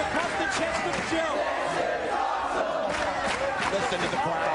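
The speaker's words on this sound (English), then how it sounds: "Listen to the crowd." A wrestling crowd at a three-way match cheers and roars steadily throughout, a dense sustained wall of voices with swelling shouts and whoops, loud and continuous.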